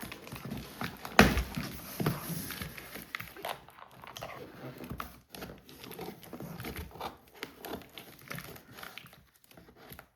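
Plastic and cardboard packaging of a Spirit Halloween Pumpkin Punisher animatronic box being cut and pulled open, with soft crinkling, tearing and scattered rustling handling sounds, fairly quiet and close.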